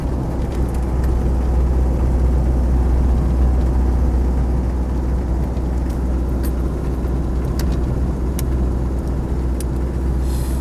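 A 1990s-style Land Rover 90 with a 2.5 diesel engine drones steadily on the move, its low engine rumble and road noise continuous and close from inside the cab, with no one speaking.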